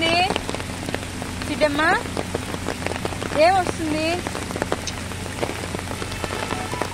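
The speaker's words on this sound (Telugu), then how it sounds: "ఫుల్ వర్షం పడుతుంది." Heavy rain pours steadily on the way to a waterfall, a dense continuous wash of drops that stays loud throughout while people speak over it.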